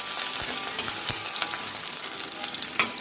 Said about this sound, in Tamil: எல்லாத்தையும் சேர்த்து பூண்டு கொஞ்சம் வாசனை வர வரைக்கும் வதக்கிக்கலாம்.